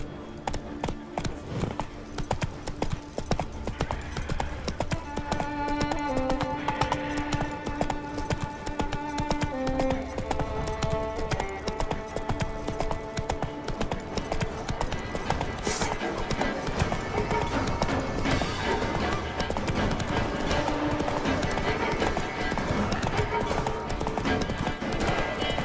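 Roach the horse gallops in The Witcher 3, hooves clip-clopping in a steady rapid rhythm throughout, set against game music and a brief voice.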